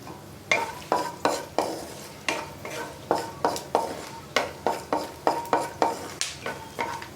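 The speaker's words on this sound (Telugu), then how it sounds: "అయితే ఆవాలు, జీలకర్ర, కొంచెం పల్లీలు వేసానమాట. వేగాలి." Mustard seeds, cumin and peanuts frying in oil, with a soft sizzle under rhythmic, clattering strokes of a spoon stirring against the pan, close and steady.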